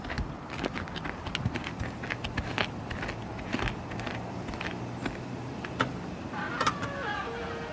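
A gate opens with scattered creaks, clicks and rattling knocks over a steady outdoor background hum, moderately near and irregular in rhythm.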